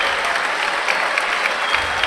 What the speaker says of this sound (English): So many people on their feet applauding that.